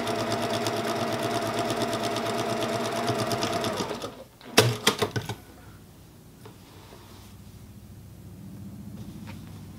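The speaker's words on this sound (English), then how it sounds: "And I'm gonna sew all the way down until I meet that point where I started." A sewing machine stitches a fabric mask in a fast, loud, close whir for about four seconds. It then stops, followed by a few sharp handling clicks and quiet room noise.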